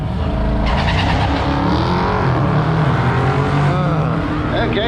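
A BMW and a Dodge Challenger launching side by side on a drag strip at a cars and coffee event, with loud revving engines and a roar that rises and fades, mixed with crowd noise and talk.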